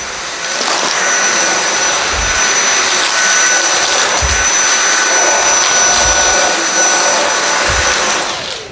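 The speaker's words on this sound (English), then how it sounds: "Let's do max." A Dyson V7 Motorhead cordless vacuum running on max power gives a loud, close, steady high-pitched whine with an airy rush. Soft low thumps recur every couple of seconds as it works.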